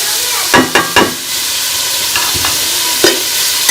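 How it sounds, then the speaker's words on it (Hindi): Dry spices with green chillies and tomatoes frying and being stirred in a pan for Pakistani beef pulao, loud steady sizzle with a few scraping stirs near the start and end, close up, no voices. "और मसाले को जो है वो अच्छी तरह से भून लेंगे"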